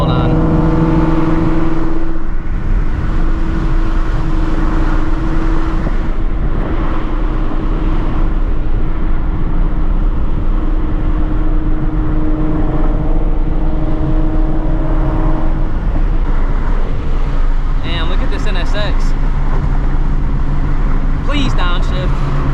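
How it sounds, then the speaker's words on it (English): An Acura NSX sports car pulls up close by on a road, its engine a loud steady drone with a brief rise in revs, heard under ongoing talk from people nearby. "Oh, we got an NSX pulling up."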